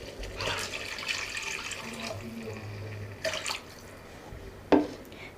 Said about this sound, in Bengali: এখন এর মধ্যে কিছুটা পানি দিয়ে দিব।